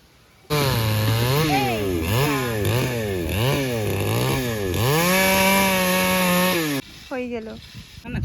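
A gas chainsaw cuts through the main trunk of a big tree at its base. The engine revs loud and close in repeated rising-and-falling surges, holds a long steady howl, then cuts off. Voices murmur briefly at the end.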